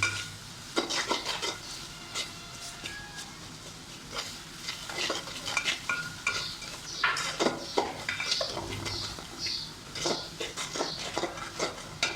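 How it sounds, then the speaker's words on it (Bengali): Ginger garlic paste stirred in a pan while cooking pangas fish: repeated scraping and clinking of a utensil against metal over a soft sizzle, steady and close, with no talking. "আদা রসুন বাটা দিলাম। এগুলোকে ভালো করে নেড়ে চেড়ে দিতে হবে"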